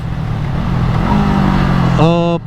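A Honda Rebel 500 parallel-twin motorcycle engine runs steadily, then revs up with rising harmonic whine near the end, close and fairly loud.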